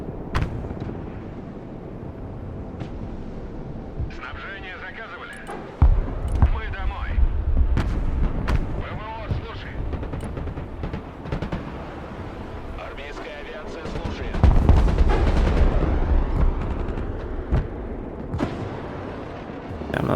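Alligator rocket artillery unit launching volleys in the Broken Arrow strategy game, with two loud bursts of rumbling launches among sparser shots and someone talking intermittently.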